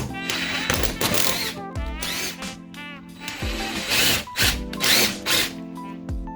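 An impact gun drives a bolt into a car knuckle during a C6-to-C5 knuckle swap, firing in several short bursts of rattling hammering separated by pauses, fairly close and moderately loud.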